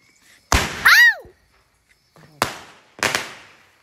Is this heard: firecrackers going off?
yes